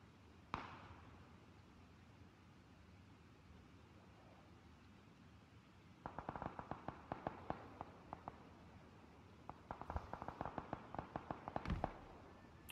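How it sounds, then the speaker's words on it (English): Distant gunfire in PlayerUnknown's Battlegrounds, first a single far-off shot and then two rapid bursts of faint, crackling reports over a soft background hiss. "First shots to my right."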